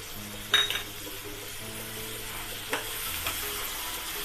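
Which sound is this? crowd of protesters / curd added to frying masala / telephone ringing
curd added to frying masala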